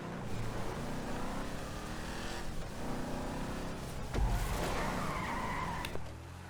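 A video game Imponte Dukes car skidding through a turn during a race, its tires hissing and the engine droning steadily, with a short thump midway before the skid fades out.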